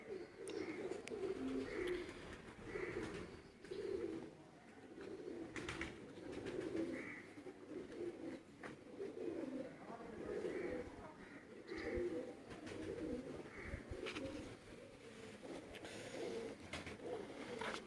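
Soft, repeated cooing of pigeons in a rhythmic pattern, close by, with faint background rustling.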